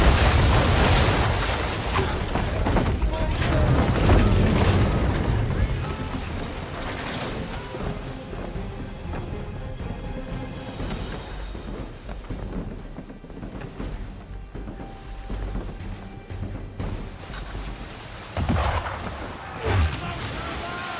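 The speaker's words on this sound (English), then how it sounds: "Why is he shooting at us?" Ship cannons fire in an Assassin's Creed III naval scene, heavy booms and bursts landing over wind and water noise, loudest in the first few seconds, with scattered later blasts and some speech in between.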